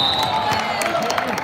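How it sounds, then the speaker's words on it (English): Home fans cheering and clapping in a gym during a high school boys basketball game, a busy crowd roar with scattered shouts under a nearby voice talking. "our fans cheering"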